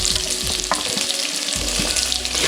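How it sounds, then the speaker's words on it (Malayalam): Large onion sautéing in a pan for crab fry, a steady loud sizzle with occasional stirring scrapes and low clunks throughout, no voices. "വലിയ ഉള്ളി ഇട്ട് നല്ല വഴറ്റുന്നു"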